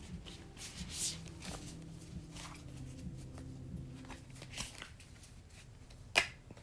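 A tarot card deck being shuffled by hand, with soft, close riffling and rustling bursts running through the whole stretch and one sharper snap near the end.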